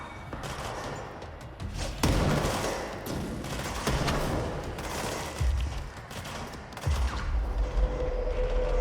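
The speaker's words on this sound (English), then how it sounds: "That's a grenade." A grenade explodes amid heavy gunfire in the action video game Control, part of a dense, loud stretch of shots, thuds and booms with no voices over it.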